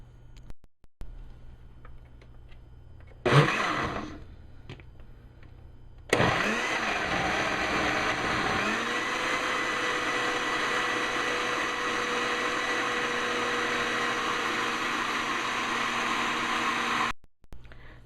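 A kitchen blender grinds habanero peppers with onion, garlic and cilantro, starting with a short burst, then a loud, steady whirring motor that runs for about ten seconds before cutting off.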